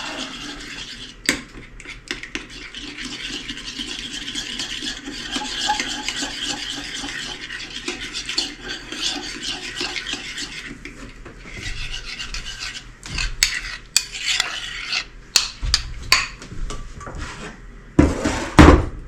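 Steady scraping and clinking of a utensil stirring a thick lemon cream sauce in a bowl, with a few sharper taps and knocks toward the end.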